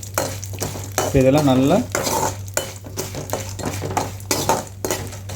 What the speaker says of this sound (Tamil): வேர்க்கடலை, கடலைப்பருப்பெல்லாம் நல்லா பொரிஞ்சு வரட்டும்